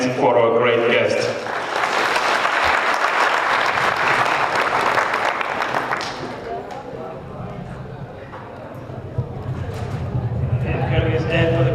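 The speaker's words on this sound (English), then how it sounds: "let's clap our hands for our great guest" An audience at a church gathering claps for a guest in a dense, steady burst of applause that lasts about six seconds, then fades as voices take over.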